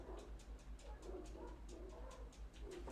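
A dog whimpers and yips in a steady, repeating series of soft, high-pitched cries, faint and fairly close, with a low hum underneath.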